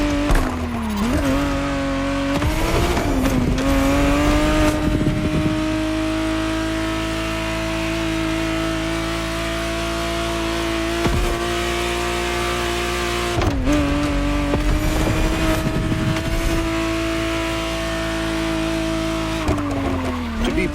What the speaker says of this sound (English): the exact model Motorfest has put in your hands is the 1991 re-engineered version of the Tessterrosa, introduced as the 512 TR